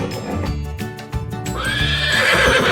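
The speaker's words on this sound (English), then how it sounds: "Horse." A horse gives a loud, shrill whinny that rises and trails off over light hoof clip-clops, with cheerful background music running underneath.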